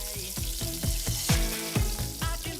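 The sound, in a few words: oxtail frying in hot oil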